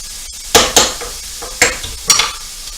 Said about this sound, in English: let's give that onion mix a stir